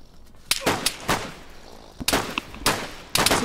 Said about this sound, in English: Some guy's getting shot.